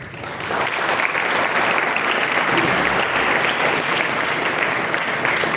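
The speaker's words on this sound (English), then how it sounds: "you should all give a big round of applause" A big round of applause from a convention seminar audience, loud and sustained crowd clapping that swells quickly and holds at an even level to the end.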